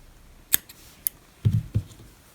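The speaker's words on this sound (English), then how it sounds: "you can cut the yarn here" Scissors snipping through crochet yarn for a halter top, one sharp close snip followed by a couple of softer thuds and a second cut, brief and quiet against a faint room background.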